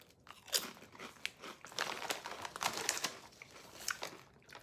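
Lay's China spicy braised beef flavor potato chips are chewed close up, giving repeated crisp crunches in an irregular rhythm, with some crinkling, fairly quiet and with no talking.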